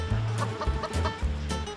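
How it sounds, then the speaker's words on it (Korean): Chickens cluck repeatedly in a Jeju tangerine orchard planted with Red-hyang citrus, the short throaty calls close by and overlapping in quick bursts with no talk over them. "그때 인터뷰를 방해하는 닭들?"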